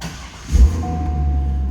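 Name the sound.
2003 Chevrolet Corvette engine starting, Corsa exhaust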